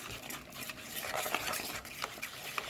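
Salad being tossed and mixed with about a tablespoon of olive oil for a vegetarian Caesar salad, giving soft continuous wet stirring and rustling with small clicks, close and steady, with no talk.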